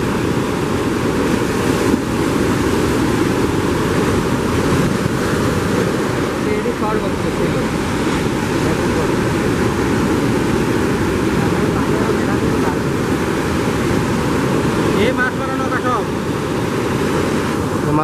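Heavy surf pounds Teknaf beach in a storm under a storm warning, a loud, unbroken roar of breaking waves mixed with gusting wind buffeting the microphone, with voices talking over it.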